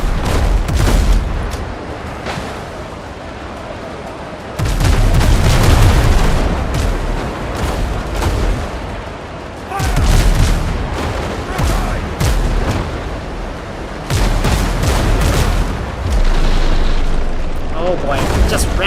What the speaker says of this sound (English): Get the guns ready. Prepare to fire.